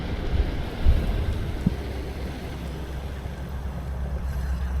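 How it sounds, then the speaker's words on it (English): Strong wind buffets an outdoor microphone on a cold day, a continuous low rumbling roar with a few heavier gusts early on and no voices. "We got a lot of wind today"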